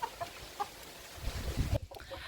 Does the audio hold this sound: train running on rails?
no